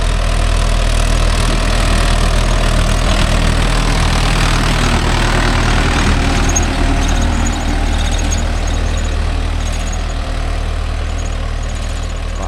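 A Mahindra Yuvo Tech Plus 585 DI 4WD tractor pulls a nine-tine cultivator through field soil, its diesel engine a loud, steady, close rumble that continues unbroken throughout.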